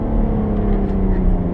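A Seat car on the Nürburgring Nordschleife, heard as a steady, loud engine drone with a low rumble, close by and continuous, with a voice over it.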